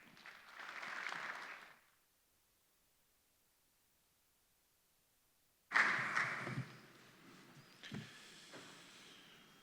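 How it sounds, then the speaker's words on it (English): An audience at a summit welcome ceremony in Tivat bursts into applause after a quiet pause, loud and close at first, then tapering into scattered clapping. "Let's welcome him to the stage with your applause."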